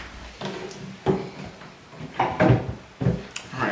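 Cabinet drawers in a new-construction townhome kitchen slide open and shut several times, a series of close, distinct thuds and rolling scrapes with short gaps between them.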